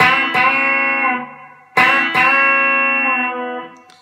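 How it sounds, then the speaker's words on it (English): Two down-picked notes on a distorted electric guitar, each bent upward and left ringing, separated by a short pause; close and fairly loud. "We're going to hit it twice. We're going to down pick it twice."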